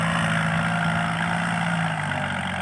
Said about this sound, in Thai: รถไถกำลังปั่นข้าวอยู่